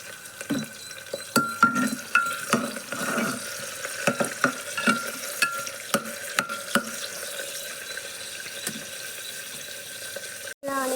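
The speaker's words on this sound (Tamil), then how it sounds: "இந்த சமயத்தில் கட் பண்ணி வச்சுருக்கிற ஆனியன் சேர்த்துக்கலாம் நல்லா செவந்து வர வரைக்கும் வணங்கட்டும்" Chopped onions sauté in a pan for chicken biryani, with repeated clinks and scrapes of a spoon stirring over a soft sizzle, steady and close, with a sharper knock near the end.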